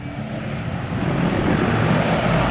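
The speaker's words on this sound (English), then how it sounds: "pulling it into reverse pitch." A Caribou airplane landing at Toowoomba with its propellers in reverse pitch, a loud, steady, broad engine and propeller roar that swells slightly and holds throughout, heard close with no voices.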